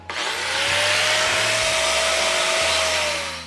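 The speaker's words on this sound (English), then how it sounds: "we want to wire wheel the surface to make sure we have a nice clean surface" Angle grinder with a wire wheel cleaning a steel plate surface before a V-groove weld, a loud, steady high whine with a dense scratching rush, spinning up and running continuously for a few seconds.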